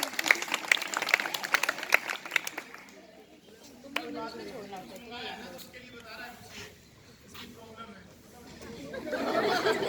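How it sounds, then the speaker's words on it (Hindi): A school morning assembly crowd applauds in welcome for a student named Sumit, dense clapping that thins out as chatter and talk take over, then swells again near the end. "इसलिए उसका जोरदार तालियों से स्वागत करेंगे"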